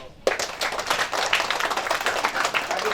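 Guests break into brisk clapping at a traditional Sabu engagement ceremony, a sudden burst of many hands starting at once and continuing densely and fairly close, with faint voices mixed underneath.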